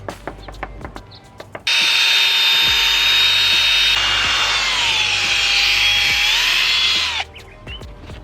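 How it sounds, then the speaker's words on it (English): A drill spinning a small sponge pad polishes a car headlight with compound, starting with a loud, steady whine that holds for about five seconds, dips in pitch midway, then cuts off, with faint handling clicks before and after. "So now the final step, we get the little sponge polishing compound."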